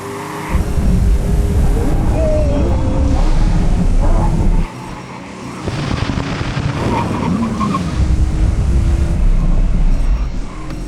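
A car in the Driving Empire video game braking hard to a full emergency stop, with loud continuous engine roar and tire skidding that drops away briefly and then returns, steady and close, with no speech over it.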